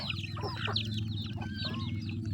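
Farm ducks feeding make a run of close, quick nasal calls and clucking chatter over a steady low hum, with no talking.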